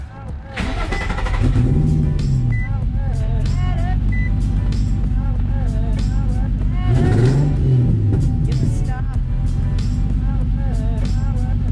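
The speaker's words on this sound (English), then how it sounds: "But as it is, the motor sounds really good." A Nissan 350Z with a VQ35DE engine, fitted with new spark plugs and a relocated filter, idles steadily with a low, even hum throughout, while a person talks over it.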